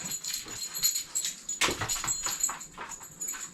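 A dog whimpers and whines softly in short, high breaths, with a brief scuffling thump partway through; quiet and fairly close.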